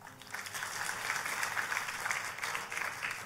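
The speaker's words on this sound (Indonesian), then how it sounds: "Boleh kasih tepuk tangan?" A church congregation applauds during a sermon, a quiet but continuous patter of many hands clapping, heard at a distance without speech.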